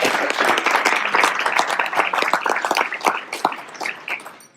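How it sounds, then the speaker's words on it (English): A crowd at an Armenian Bar Association awards gala luncheon claps in steady, dense applause that fades gradually toward the end. "So just a round of applause for"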